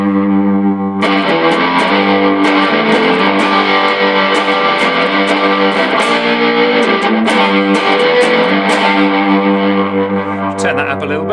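Electric guitar through a Boss GX-10 distortion patch, set up as a live show rig, plays sustained heavy distorted chords and notes with echo, loud and steady for about ten seconds with no talking.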